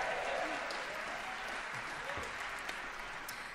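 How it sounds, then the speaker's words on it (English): A concert audience applauds at a barbershop-style a cappella convention in Harrogate, steady dense clapping blending into a continuous wash of crowd noise that holds at an even level throughout. "Let's give her a round of applause."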